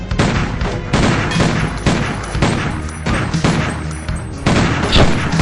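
Rapid, loud gunfire from the first-person shooter Doom, played with the Classic Doom mod, bursts of shots repeating densely in quick succession with heavy booming low end throughout.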